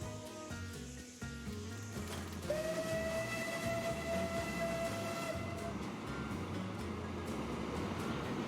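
A steam locomotive in the Transport Fever video game sounds a long, steady steam whistle over the rolling clatter of a train running along the rails, loud and close.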